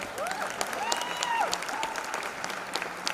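A theatre audience applauds at the premiere of the play "Mere Krishn" at NCPA, Mumbai, with steady, dense clapping for about three seconds and a few whistle-like cheers rising above it.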